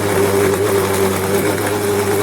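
A mixer grinder blends sweet lime with sugar into juice, giving a loud, steady motor whine that holds even for the whole stretch with no talk over it.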